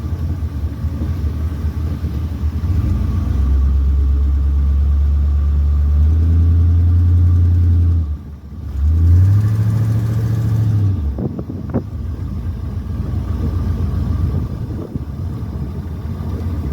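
A Model A Ford hot rod engine drives past as a loud, steady low rumble that climbs in pitch, breaks off briefly, then returns and settles to a rougher idle-like drone, with no voices.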